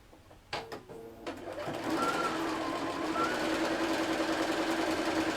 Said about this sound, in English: I put the foot on it, and it started sewing